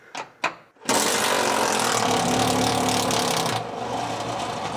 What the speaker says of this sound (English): We're gonna run an impact driver from up above and have a 5/8 wrench down below